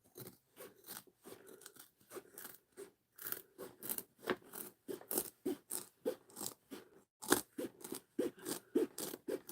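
Scissors cut through fabric binding for a sewn backpack in a rapid series of crisp snips and crunches, close and fairly quiet, with short gaps between cuts.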